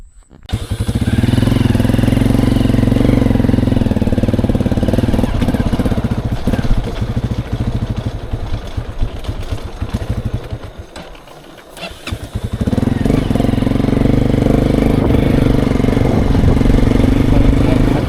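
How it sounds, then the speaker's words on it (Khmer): Motorcycle engine running steadily while riding through Mondulkiri, Cambodia, a loud continuous mid-pitched drone that dips and thins briefly near the middle before returning at full strength. "ខ្ញុំនឹងជិះម៉ូតូទៅ"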